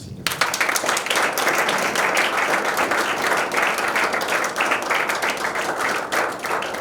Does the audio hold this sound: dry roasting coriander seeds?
no